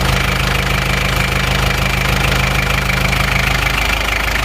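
An Isuzu Panther 2.3 diesel engine with a cracked piston and broken piston rings runs continuously, loud and close, with a steady rhythmic knocking clatter over its idle drone.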